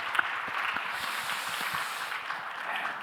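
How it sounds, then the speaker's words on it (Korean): A congregation at a Sunday youth church worship service applauds in encouragement, a steady, even wash of many hands clapping at a moderate distance, continuing without a break. "서로를 향해서 큰 박수로 서로 격려하고 지지하고 응원의 박수"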